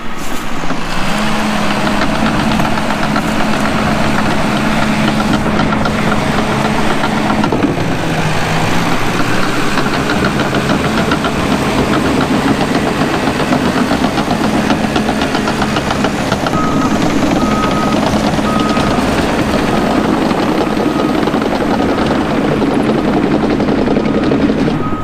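A construction machine's diesel engine runs loud and close while building a house pad, a continuous rumbling drone with a low throb that shifts slightly in pitch and never stops.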